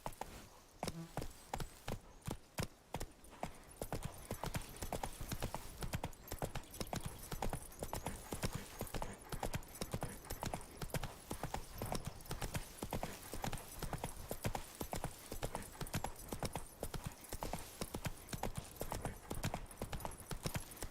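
Hooves of Roach, the horse in the video game The Witcher 3, clip-clop in a fast, steady rhythm for the whole stretch, crisp and close, with little else around them.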